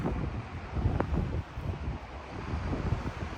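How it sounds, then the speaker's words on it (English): Strong wind gusts buffet the microphone outdoors near a train station, a steady roaring rumble with no voices. "Very windy."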